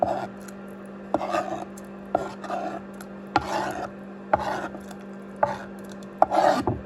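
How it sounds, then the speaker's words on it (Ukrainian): Meat being cut up for a broth, a knife striking a board in about seven short, evenly spaced strokes, each followed by a brief rasping slice, close and moderate over a steady low hum. "розрізаємо немножко м'ясо, закидаємо его"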